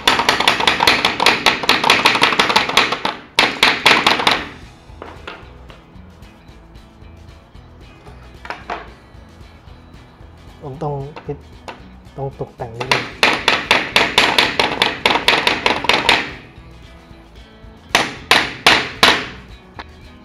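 Repeated hammer blows ring out in quick rhythmic bursts while a wooden plant shelf is built and fixed against a concrete wall, broken by quieter pauses, with a person talking between and over the strikes.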